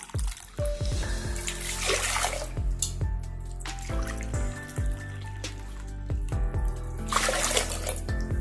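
About two cups of water poured into a pot for cooking moong dal, a close, bubbling, gurgling pour with splashing drips that runs almost without pause.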